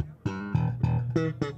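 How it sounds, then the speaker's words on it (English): A bass guitar with no boost pedal, played clean at a guitar and amp show: five plucked, sustained low notes in a steady, moderate rhythm, fairly quiet and alone. "So without it, your bass would sound like this."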